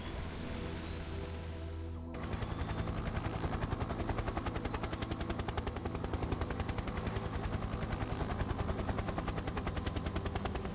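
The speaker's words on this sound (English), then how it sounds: "I'm gonna go hop with the chopper." A helicopter in the video game Factorio starts up after a quieter stretch, then a rapid, loud, dense rotor chatter pulses steadily and continuously, with no speech.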